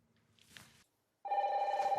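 A red telephone rings in a reality-show house. There is a short soft rustle, then a brief quiet gap, then a loud continuous electronic ring that carries on to the end with no voices.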